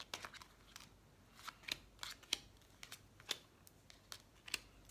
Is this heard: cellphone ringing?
no